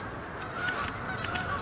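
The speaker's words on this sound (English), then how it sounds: "Sounds like geese coming in." Two geese honk repeatedly as they fly in toward the observer, their calls fairly faint and distant over steady outdoor background noise.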